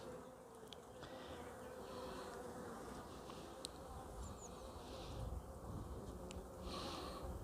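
Honey bees from a hive with Carniolan and Caucasian traits buzz steadily during a May hive inspection while a queen bee is held up, a dense continuous hum at moderate distance with no talking.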